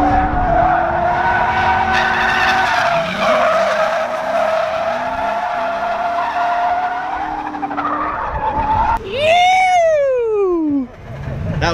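A drift car slides through a transition on throttle with loud, sustained tire skidding and engine roar throughout, ending in a sharp rising squeal near the end of the run.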